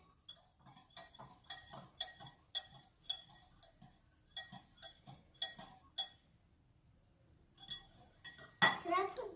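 A utensil clinks repeatedly against a bowl while pancake batter is mixed with egg by a child. The taps come in quick bursts with short pauses, and a brief bright scrape follows near the end. Faint voices sit in the background.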